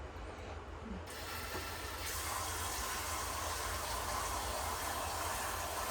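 Water pouring steadily over mushrooms being washed at a night-time family rooftop party, a continuous close rushing splash that grows fuller after the first second and runs on without pause, with no talk over it.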